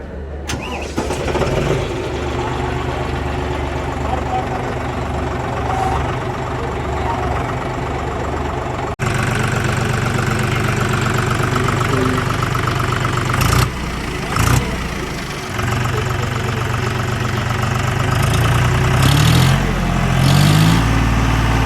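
A John Deere 5310 4x4 tractor fitted with an implement idles at a farmers' fair in Khanna, a loud, steady diesel rumble running throughout, close by, with faint crowd noise and brief knocks.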